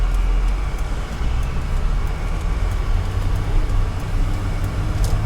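A 1989 BMW 325i heard from inside while driving onto a highway, a steady low engine drone and road rumble with faint rattles and small bump knocks, no voices.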